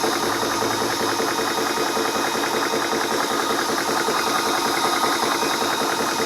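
A Spritech 4500 PSI PCP air compressor for air rifles runs at about 2,500 PSI, giving off a loud, constant mechanical drone with rapid piston chatter and a rushing airflow hiss, unbroken and close.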